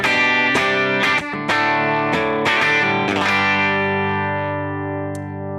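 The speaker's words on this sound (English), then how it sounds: "I've got a little bit of a reverb. It's an always on. You hear that? It's a plate verb." Clean electric guitar through a Helix plays a few strummed chords, then a held chord rings out with a smooth, lingering always-on plate reverb tail fading slowly.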